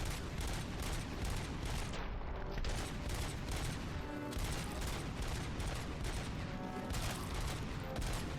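Sustained, rapid gunfire from the RoboCop video game, with dense overlapping shots and booms filling the whole stretch at a loud, constant level.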